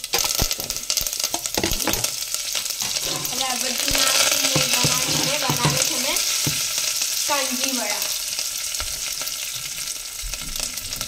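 Mustard seeds crackle in hot oil beside fenugreek for an instant kanji, a steady close-up frying hiss dotted with sharp pops and a few scraping stirs, with no talk.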